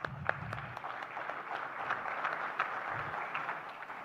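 Quiet, scattered round of applause in a conference hall at an Indo-American Chamber of Commerce national convention, individual claps audible over a soft murmur, heard from a distance and fairly faint.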